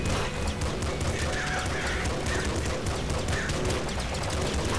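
Dense, continuous rapid gunfire from the top-down shooter Nuclear Throne, a loud unbroken barrage of overlapping shots with chirpy game effects on top, no talking.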